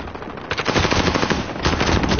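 Automatic machine gun fire in a PS4 shooter game rattles out in dense, rapid bursts that are loud and continuous, with a brief lull partway through.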